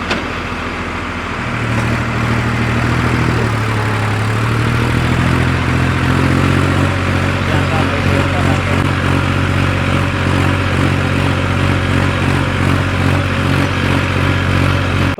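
A Massey Ferguson tractor hauls a heavy leveller across a field, its engine a loud, steady diesel drone that climbs in pitch early on and then holds a constant labouring note.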